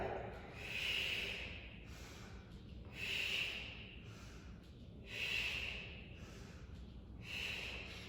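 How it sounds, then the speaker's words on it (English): Slow, deep breaths during a barre exercise class, four long hissing inhales or exhales spaced about two seconds apart, close and steady with no talking. "Deep breath in."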